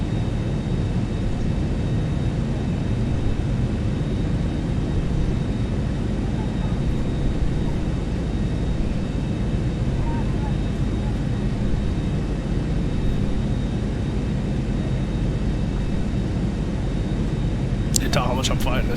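A Zibo Boeing 737-700 in X-Plane 11 makes a windy landing, with a loud, steady, broadband engine and wind roar lasting throughout and a brief higher-pitched chirp near the end.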